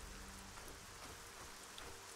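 Steady, hissing rainfall in the fantasy video game Arcania, a continuous wash of drops on the ground with no talking, quiet and unbroken throughout.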